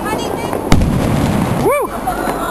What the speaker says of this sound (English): It's just some sod off air bomb.